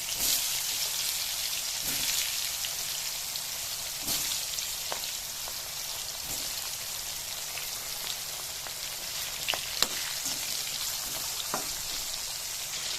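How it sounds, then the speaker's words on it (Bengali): Pointed gourd frying in white oil in a kadai for Bengali potol posto, a continuous soft crackling sizzle with scattered sharp pops and a few light utensil taps, no voices. "তো আমি কড়াইতে পটলগুলি ছেড়ে দিলাম, এটাকে ভাজা ভাজা করে নেব"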